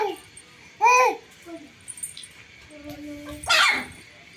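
A street dog gives a couple of short, high yips and whimpers close by, scattered among quiet pauses while a small child babbles.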